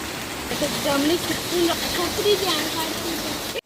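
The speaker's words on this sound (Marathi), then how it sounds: "हा पाऊस तर असंच राहील कारण हा रात्रीपासून चालू आहे" Heavy rain in Pune pours down with a dense, hissing wash, while a voice talks over it throughout.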